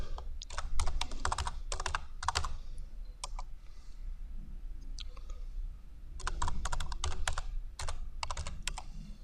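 Close-up typing on a computer keyboard, clustered bursts of rapid key clicks with short pauses between them, like entering a username and then a password.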